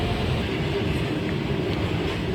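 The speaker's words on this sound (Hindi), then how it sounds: "ऐसा बहुत ही रेयरली होता है कि किसी भी सफ़र की शुरुआत पैरेलल डिपार्चर के साथ हो, और वो भी गुड्स ट्रेन के।" A goods train departs on a parallel track beside a special Indian Railways passenger train in the monsoon, giving a steady, loud rumble of rolling wagons and wheels that stays constant throughout.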